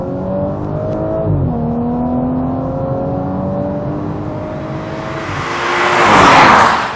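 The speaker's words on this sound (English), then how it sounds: "push that pedal to the metal, it does reward you with a really nice engine note as well" An Audi S5 engine revs hard under acceleration, its steady harmonic note climbing and shifting with a gear change, then swelling into a loud, rushing pass near the end, with no voices over it.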